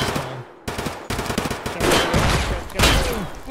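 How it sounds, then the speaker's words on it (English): In a shooter video game, a grenade launcher fires a quick run of sharp blasts and booms, loud and close, with several sudden bursts over a few seconds and no speech. "It's fucking grenade launcher!"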